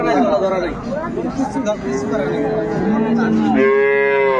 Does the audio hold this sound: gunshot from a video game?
no